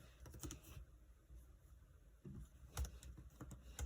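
Fingers typing on a computer keyboard nearby, quick irregular bursts of light key clicks with short pauses, fairly quiet and without speech.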